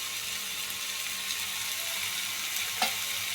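A fenugreek bhaji mixture with tomato sautés gently over low heat in a soft, even sizzle, with a single faint stir near the end and no voices.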